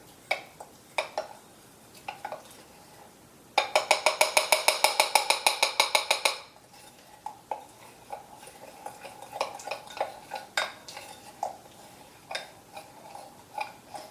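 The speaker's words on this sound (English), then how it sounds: "Make sure you stir it all in." A utensil stirs cornstarch into water for homemade watercolor paint, a fast run of bright, even clinks against the container for about three seconds, with scattered lighter taps and knocks before and after.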